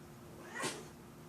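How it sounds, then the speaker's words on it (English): A male cat caterwauls indoors, a single drawn-out unhappy yowl that swells and fades over about a second, moderately close against a quiet room. "That crazy cat of mine, I don't know what's up with him. He's not a happy guy this morning."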